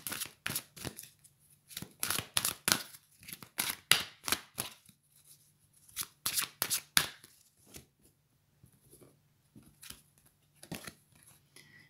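Tarot cards being shuffled by hand: bursts of crisp riffling and snapping come in quick clusters, some louder than others, broken by short pauses, with no talking over them.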